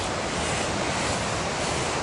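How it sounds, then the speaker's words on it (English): Strong, steady rush of the fast-flowing South Fork of the Kern River near Kennedy Meadows, heard up close as broadband roaring water with no pauses and no talk. "this river is the Kern River. I think it's still only the South Fork of, and it's like really strong flowing."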